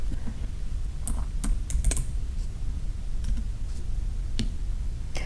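Fingers type on a computer keyboard in a quiet room, a steady run of close, crisp key clicks in irregular bursts over a low background hum, with no voices.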